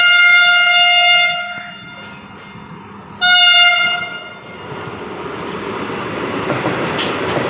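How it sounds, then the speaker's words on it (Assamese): An Indian Vande Bharat electric express train sounds two loud, sustained horn blasts close by, then roars past with a rising, steady rumble of wheels and wind. "বন্দে ভাৰত আহিছে বন্দে ভাৰত ফাৰ্ষ্ট টাইম দেখিলোঁ বন্দে ভাৰত"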